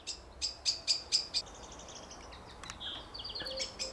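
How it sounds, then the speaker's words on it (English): Birds in a garden give a rapid series of sharp, high chirps, followed by softer trilling calls nearby. "As those birds are trying to make sweet love"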